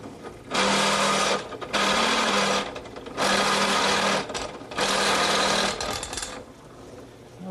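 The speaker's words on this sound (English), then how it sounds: "So I've set up my step drill in the drill press." A drill press fitted with a step drill whirs loudly in four bursts of about a second each, spinning up and stopping with short pauses between.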